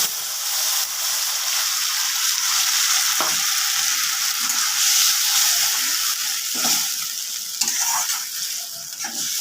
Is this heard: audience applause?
no